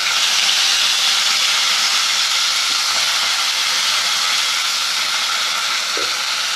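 Brinjal pieces drop into a hot pan of mustard seeds, curry leaves, green chillies and small onions, setting off a loud, steady sizzle that stays dense and unbroken throughout, with no voices.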